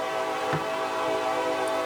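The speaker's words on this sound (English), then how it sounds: "Leading this train today is NS of 1162, an EMD SD70 ACE" A Norfolk Southern freight train led by EMD SD70ACE locomotive NS 1162 rumbles past with a steady, loud diesel drone and sustained engine harmonics, no voices.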